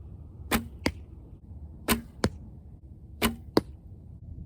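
Arrows striking an archery target during practice, three pairs of sharp thuds about 1.3 seconds apart, each a hard impact followed quickly by a second hit, clear and fairly close over quiet background.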